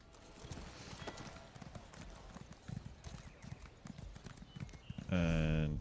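Horse hooves clip-clop in a steady trotting rhythm in the video game Elder Scrolls Online, fairly quiet, ending in a loud tonal game sound near the end.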